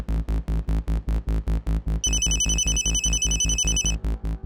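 A phone ringing over a speaker during a call to a son, a fast repeating pulsed ringback pattern with a high electronic warble layered on for a couple of seconds, loud and close with no voices.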